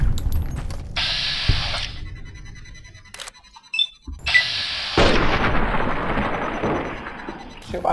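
A loud weapon firing in the Fallout New Vegas video game, heavy booming blasts with a long rumbling tail, two main bursts separated by a brief quiet gap.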